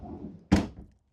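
A drawer of a 12 volt fridge in a 2025 Sabre 36DBB fifth wheel slides shut with one solid, close thunk after a soft rolling slide, then silence.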